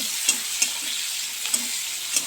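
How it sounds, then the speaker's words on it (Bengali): Chopped onions fry in a pan with whole cumin and dried red chilies, a steady close sizzle broken by several soft clicks of a spatula stirring at uneven intervals. "পেঁয়াজটাকে একটু ভাজা ভাজা করব"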